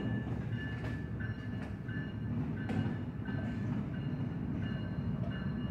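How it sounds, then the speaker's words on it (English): A train passes near a hotel around 3 a.m., a steady loud rumble with rhythmic clicking of wheels over rail joints and faint tonal squeals, with no talking. "There's another train coming?"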